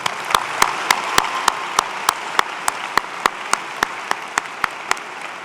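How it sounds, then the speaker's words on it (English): Sparse, steady clapping from a university commencement audience for the engineering faculty, a few distinct hand claps spaced evenly over soft background noise rather than a dense roar. "Let's give our faculty a round of applause."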